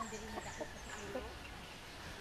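Soft, scattered clucking from a few Rhode Island Red, native and Japanese Shamo laying hens in a coop, close by but quiet, with faint background noise and short irregular calls.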